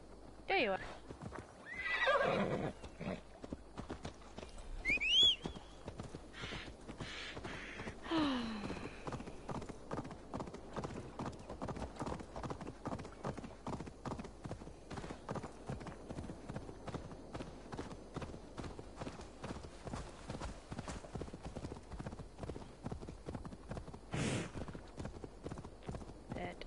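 A horse in the Assassin's Creed Valhalla video game whinnies a few times, then its hooves clip-clop in a steady, quick rhythm throughout, moderately close, with a brief voice early on.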